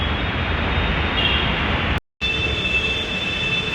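A metro train at a station rumbles loudly and steadily with a high whine, broken by a brief moment of silence before the roar resumes.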